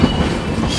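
Delhi–Patna AC special train running near Danapur, a steady rumbling rail roar with faint wheel clatter heard from on board, continuous and fairly loud.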